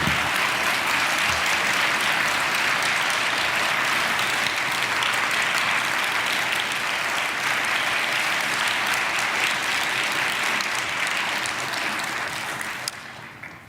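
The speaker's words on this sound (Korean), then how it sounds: "우리 큰 박수로 맞이하며 말씀 듣겠습니다." Sustained, loud applause from a church congregation at a dawn prayer service, welcoming a guest preacher; dense clapping fills nearly fourteen seconds before tapering off at the end.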